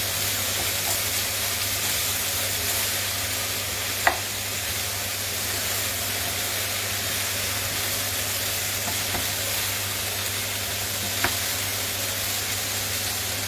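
Seasonal vegetables frying in a pan on a stove over fairly high heat, a continuous close even sizzle with faint occasional utensil clicks, no voices.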